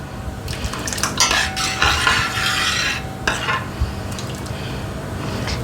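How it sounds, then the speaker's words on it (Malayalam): Milk payasam stirred in a pot on the stove, a ladle scraping and clinking against the metal in several short bursts over a faint simmering bubble, close and fairly loud with no voices. "ഇടയ്ക്കിടയ്ക്ക് ഇളക്കണം, പാട കെട്ടാണ്ട് ഇളക്കി കൊടുക്കുക"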